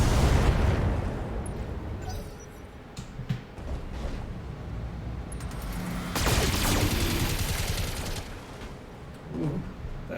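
Fire starter weapon firing in the mech combat video game Battletech, a sustained rushing, crackling barrage with explosive bursts that swell and fade over several seconds.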